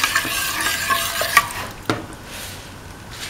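A beaten rice soup mixture is stirred in a pan, the spoon swishing and scraping steadily over a gentle bubbling sizzle, close and clear with no talking.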